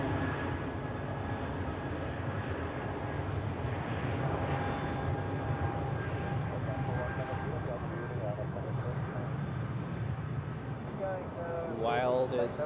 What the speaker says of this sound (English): what do we have on the runway? An A220 of Swiss.